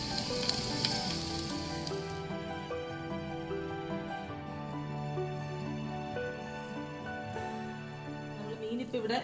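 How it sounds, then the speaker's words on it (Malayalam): Fish frying in a pan over a medium flame gives a bright, hissing sizzle that is clear at first, then sinks beneath music for the rest of the clip. "നമ്മൾ മീനിപ്പോൾ ഇവിടെ ഒരു മീഡിയം ഫ്ലെയിമിൽ ഫ്രൈ ആയിക്കൊണ്ടിരിക്കുകയാണ്."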